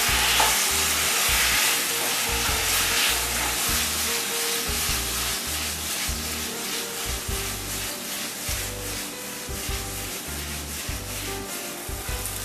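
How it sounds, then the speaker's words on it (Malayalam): A spoon scrapes and stirs a potato masala mixture with yogurt and cashews in a hot pan, rhythmic rubbing strokes repeating steadily over a soft sizzle, close and alone without talk. "ഇളക്കി യോജിപ്പിക്കുക."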